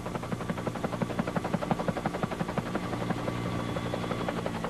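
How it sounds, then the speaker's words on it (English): A helicopter flies nearby, its rotor chopping in a fast steady rhythm over a droning engine whine. "It's Harold the helicopter"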